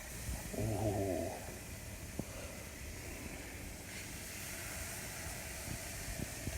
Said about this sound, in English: Listen to the searing on this.